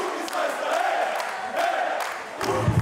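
A celebrating crowd at a championship party for Bruck chants its new battle cry in unison, repeated rhythmic shouting with cheers rising between phrases, loud and lively, ending on a sharp collective shout.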